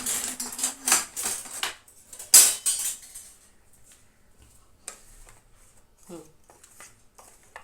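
Batter for doi fulki being stirred in a bowl: clinking, tapping strokes of a utensil against the bowl in quick bursts at first, then sparser light taps and quiet gaps.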